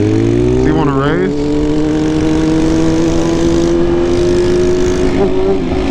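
A BMW M1000RR motorcycle engine revs steadily and loudly close by, its pitch sweeping up and down as it shifts gears, with a constant high-revving drone throughout.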